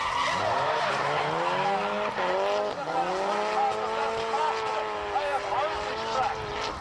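Drift cars at Oran Park scream through a corner in a competition final. Loud, sustained tyre squeal and skidding wail together with revving engines in long continuous sweeps, and a commentator talks over the noise.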